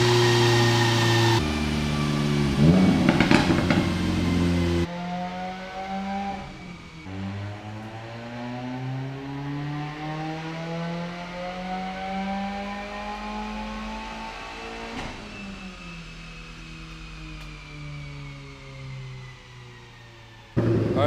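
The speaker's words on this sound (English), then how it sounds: "you can at least hear the Tome exhaust here in a minute" A 2016 Subaru WRX engine on a dyno revs and holds high through an aftermarket Tomei exhaust, its pitch climbing and falling through a loud, throaty drone, with sharp shifts in tone.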